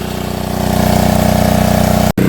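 A small water pump engine at a well runs steadily at close range with a pulsing, even chug, then cuts briefly near the end.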